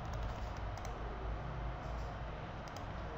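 Keyboard typing in a dental cooperative's office software, a steady stream of soft clicks under a constant broadband hum, fairly quiet and continuous with no pauses.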